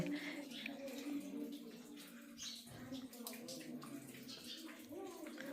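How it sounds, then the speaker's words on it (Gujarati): Water dripping and trickling on all sides inside a cave: a dense, continuous splashing wash that fills the space, with faint voices mixed in. "અત્યારે તો બહુ જ પાણી ટપકે છે બધી સાઈડ"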